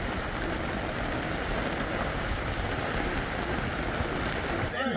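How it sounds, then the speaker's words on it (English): A heavy downpour drums steadily and loudly at an outdoor WW2 living-history weekend during a passing thunderstorm, a dense, unbroken roar of rain with no distinct thunder. "we're getting a downpour here today"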